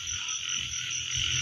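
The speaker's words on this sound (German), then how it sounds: "der Stille zu lauschen oder dem Konzert jetzt der Kröten oder den, ja, den Fröschen, den ganzen Insekten" Frogs and toads croaking at night amid rice fields, a dense chorus of steady trilling and pulsing calls with insects buzzing high above, continuous and moderately close.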